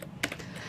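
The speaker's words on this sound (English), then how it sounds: "And while Susan's typing here" A few quick keystrokes on a computer keyboard while entering a database name during SQL Server setup, close and fairly crisp, with one sharper clack standing out among softer taps.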